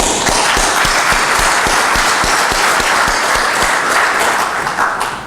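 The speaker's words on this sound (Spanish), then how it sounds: "Un aplauso." An audience at a mining industry evening talk applauds, a dense, loud, steady wash of clapping with quick sharp hand claps pulsing through it, fading slightly at the very end.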